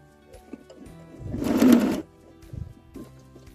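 A sewing machine briefly runs, stitching an elastic pocket for a restored 1950s suitcase: one short, fairly close whir amid a quiet room.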